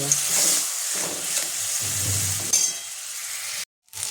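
Ground turmeric, cumin, coriander and sugar frying with a little water for Bengali-style whole masoor dal tarka, a steady hissing sizzle with light stirring clinks, then a brief silent gap near the end.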